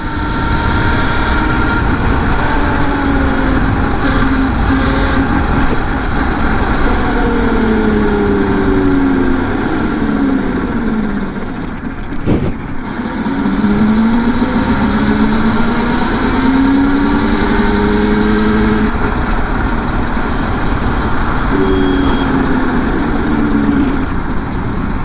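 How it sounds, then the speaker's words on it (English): Ride on a 4RGE M2 electric motorcycle prototype: a steady rush of wind and road noise with a faint motor whine rising and falling in pitch through several sweeps, no engine rumble and no talk. "And it's so silent. I mean, there's a whine of the motor,"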